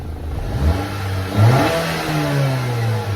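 A 2021 Acura RDX engine revs up and down at close range, its steady mid-pitched drone swelling and easing as the RPMs shift, with no voices over it.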